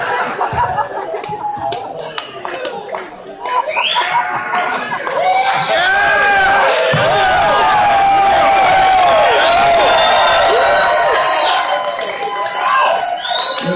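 A comedy club audience at an Andrew Dice Clay show at the Fillmore Silver Spring cheers, whoops and laughs loudly for the whole stretch, with many overlapping voices building into a sustained, close crowd roar.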